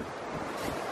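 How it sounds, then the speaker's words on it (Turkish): Strong wind roars outdoors in a brief, steady blast of broadband buffeting and rushing noise, loud and continuous with no voices. "Bu arada inanılmaz rüzgarlı bir havada çekim yapıyoruz."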